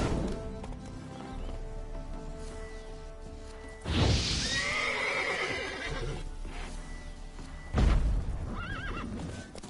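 A horse in the video game The Witcher 3 gives two loud whinnies several seconds apart, with hoof clops and shuffling between them and a rumbling backdrop.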